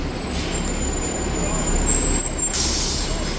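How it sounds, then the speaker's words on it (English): TTC 944 Kipling South Express city bus pulling in at Kipling Station, a loud low engine rumble with a sharp hiss of air brakes, someone talking nearby. "our bus is here"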